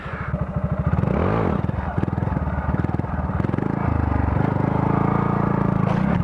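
A Honda Grom motorcycle engine runs close by at a rough, lumpy idle and then revs up and settles again, with a steady putter throughout and a brief rising and falling surge near the start.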